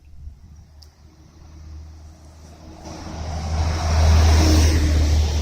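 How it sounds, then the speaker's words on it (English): A bus approaches along a road and accelerates past quickly, its engine roar swelling from faint to loud and close in the final seconds, with no talk over it. "There's a bus travelling to get past me rather quick"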